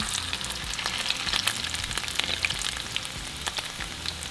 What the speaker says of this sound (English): once our oil is nice and hot, we're going to throw in our taquitos